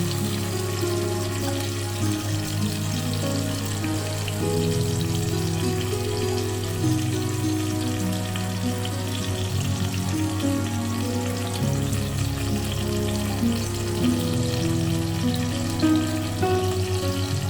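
Soaked Gobindobhog rice fries in a pan for khichuri, with a continuous close sizzle and a low steady hum running under it for the whole stretch, and no one talking.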